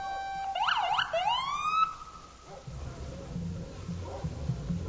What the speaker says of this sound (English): police cars blaring their sirens